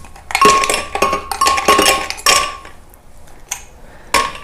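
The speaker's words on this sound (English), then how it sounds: "So let's go ahead and add the ice." Ice cubes are dropped and clunked into a glass container for a margarita, making a series of loud, sharp clinks and rattling impacts in irregular bursts, with brief pauses between scoops.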